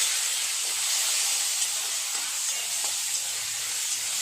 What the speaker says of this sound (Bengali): এই তেলের মধ্যে একটু কালো জিরে ফোড়ন দিয়ে দেব। দিয়ে দেব অল্প একটু টমেটো কুচি